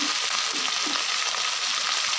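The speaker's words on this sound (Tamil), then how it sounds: "நான் கொஞ்சம் வேர்க்கடலையை போட்டு ஃப்ரை பண்ணிடலாம்" Peanuts frying on a hot dosa tawa, a dense, continuous loud sizzle and crackle with faint stirring scrapes, close up and with no one talking.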